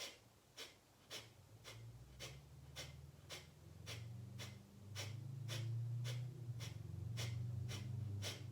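Kapalabhati breathing: a run of about fourteen sharp, forceful nasal exhales pumped at a steady quick rhythm, close and clear over a low background hum.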